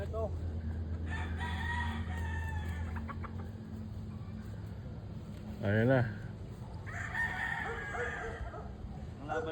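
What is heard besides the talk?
roosters crowing at a gamefarm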